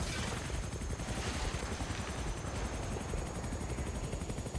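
Helicopter in the Halo CE XAM mod video game, a steady dense rotor roar with rapid chopping pulses running continuously throughout, loud and close with no talk.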